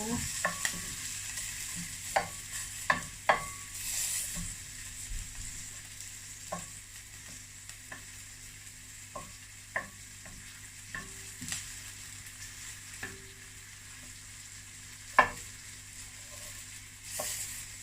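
Garlic and onion sautéing in a pan for chicken sopas, a continuous soft sizzle with scattered sharp clicks and taps of a utensil against the pan, close and fairly quiet.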